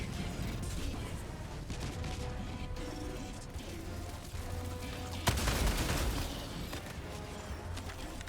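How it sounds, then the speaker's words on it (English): A Gatling sentry rattles out sustained gunfire in the co-op shooter Helldivers 2, mixed with crashing impacts and one sharper blast partway through, a busy battle soundscape with occasional faint voices from players. "Get the Gatling gun over here."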